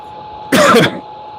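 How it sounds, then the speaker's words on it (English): A single short, sharp cough close up, standing out briefly against a quiet room hum. "Sorry, I had to cough there."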